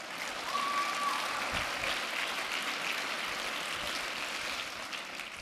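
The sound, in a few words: applause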